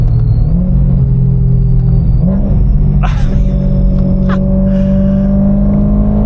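Loud, deep supercharged BMW S65 engine in a 1M clone rumbling up close, a steady throaty idle with a slight rise in revs partway through.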